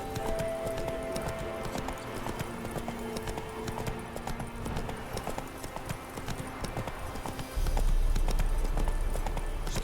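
Roach, a horse in The Witcher 3, gallops with rapid clip-clop hoofbeats under battle ambience and music, with a brief whinny, growing heavier and louder near the end.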